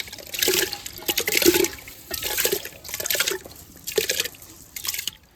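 Water is poured from a container into a pot of rice set to boil, coming in several short splashing bursts with brief pauses between them, close by and fairly quiet.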